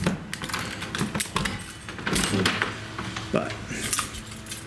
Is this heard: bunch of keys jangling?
yes